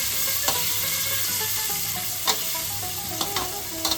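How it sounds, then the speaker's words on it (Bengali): Chopped onions sizzle steadily in a hot pan with oil and spices, with a spoon or spatula scraping and stirring now and then; the frying hiss is continuous and close, with no talking. "এবার পেঁয়াজটাকে কিন্তু ভালো করে ভাজতে হবে।"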